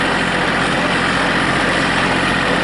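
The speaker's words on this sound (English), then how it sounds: "This 4300 is the most reliable tractor ever." A 4300 tractor engine runs steadily during hay cutting, a loud, even mechanical drone with a low rumble that stays constant throughout.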